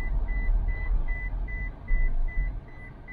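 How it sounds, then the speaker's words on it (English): Toyota Prius seatbelt warning: a steady series of short, evenly spaced high beeps repeats over a low rumbling engine drone inside the car. "it's beeping because I don't have my seatbelt on"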